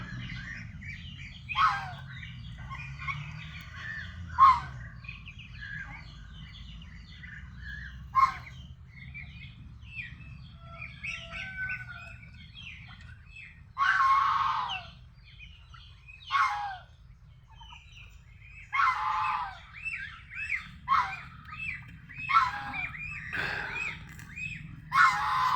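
Duck chicks chirping as they are picked up, with a series of high, short peeping calls in scattered bursts over a low background hum. No one speaks.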